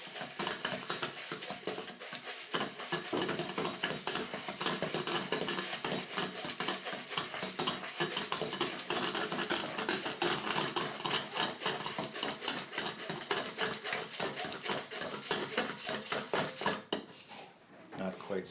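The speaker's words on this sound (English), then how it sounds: "Here I'm going to beat an egg white in copper." Egg white being beaten in a copper bowl, a rapid, dense rhythmic clatter of whisk against metal that continues steadily, then briefly falters near the end.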